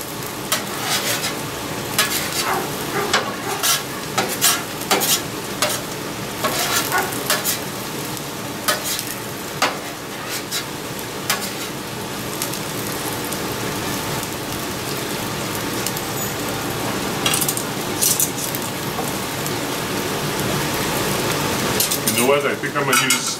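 Marshmallows cook on a flat griddle top with a steady, dense sizzle and crackle, like rain on a hot surface. The sound runs continuously and close, with scattered scraping clicks and no clear speech.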